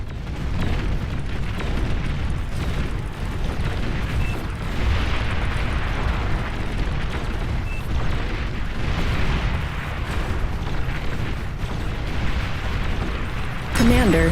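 Commander unit blowing up in the real-time strategy game Beyond All Reason, a dense rumbling roar of explosions and battle noise lasting throughout, with a brighter burst near the end; a voice talks over parts of it.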